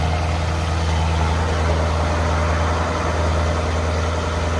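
A 2020 BMW M850i with a 4.4-litre twin-turbo V8, catless downpipes and an X-pipe, exhaust valve closed, holds a steady, deep, close engine drone with no clear rise in pitch.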